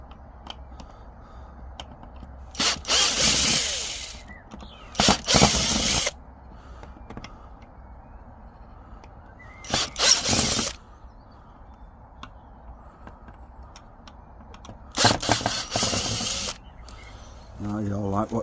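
Screws being backed out of an old bench during a restoration, several bursts of a power screwdriver whirring, each a second or so long, separated by quieter pauses with faint handling noises.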